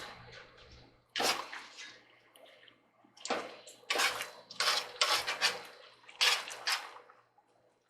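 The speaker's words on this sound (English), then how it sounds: "I put some water in, probably 4 to 6 cups I would guess." Water splashes and pours into a cooking pot for collard greens in a home kitchen, several uneven bursts of pouring with brief pauses between them, close and moderately loud.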